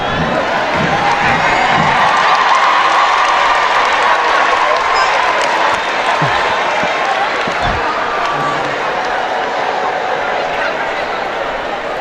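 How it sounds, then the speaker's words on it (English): A parade crowd at a Trinidad and Tobago Independence Day national parade cheers and shouts for a stray dog, a dense, steady roar of many voices with scattered clapping lasting throughout. "the crowd seems to be going wild for this interloper"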